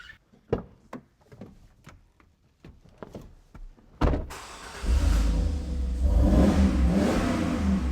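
A Chevrolet Silverado pickup's 5.3L Vortec V8 turns over with a few clicks, then fires up and revs loudly and steadily close by, a deep sustained engine roar filling the last four seconds.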